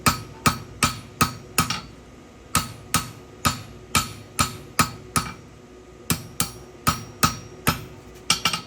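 Steady, evenly spaced metal hammer strikes on the edge of an anvil, shaping an Allen wrench into a scribe; about twenty sharp ringing blows in close, loud rhythmic series with brief pauses.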